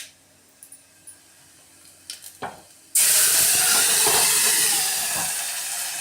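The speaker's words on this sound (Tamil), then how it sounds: "ஃப்ரெண்ட்ஸ், இப்படி தான் தாளிக்கும்." A few faint clicks and taps, then a sudden loud burst of sizzling as tempering spices hit hot oil, hissing steadily and easing slightly toward the end.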